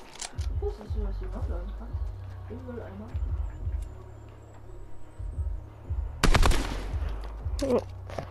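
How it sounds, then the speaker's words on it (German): Gunfire in the video game Fortnite: short rapid bursts of shots, the loudest cluster near the end, with people talking over and between the shots. "Hast du gerade geschossen?"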